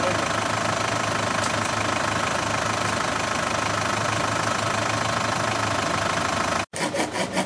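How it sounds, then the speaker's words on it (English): A loud, steady truck engine rumble with a knocking, idling character fills the whole clip as the truck approaches, cutting off abruptly near the end before resuming briefly. "Here is Todd's truck coming down."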